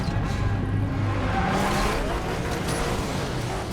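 Bentley Continental GT3 race car in the Asphalt 8 racing game, its engine a steady, loud roar with a low rumble and a rising whine, heard alone throughout.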